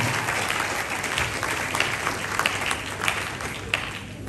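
Audience applause at a national cybersecurity challenge results announcement, a steady crackling wash of many clapping hands lasting about four seconds, moderately loud with a few sharper claps standing out.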